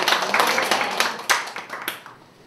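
A church congregation claps after a sermon, a burst of hand claps that starts loud and thins out, with a few sharper claps standing out before fading toward the end.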